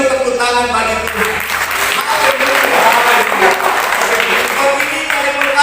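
A church congregation claps for God during a sermon, giving sustained, dense, loud applause that fills the room, with voices rising within it.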